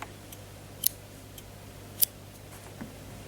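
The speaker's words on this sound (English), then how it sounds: "it's time to cut our yarn" Scissors cutting crochet yarn: two sharp, quick snips about a second apart, close by and otherwise quiet.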